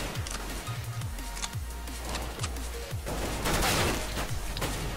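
Repeated gunfire in a Counter-Strike: Global Offensive deathmatch, a run of fairly quiet, evenly spaced shots over continuous game noise.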